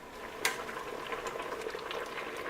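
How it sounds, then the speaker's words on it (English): Water with poke sallet leaves in it at a full rolling boil, a steady close bubbling and churning with one brief sharper splash near the start. "we've got a nice full rolling boil again for a second time"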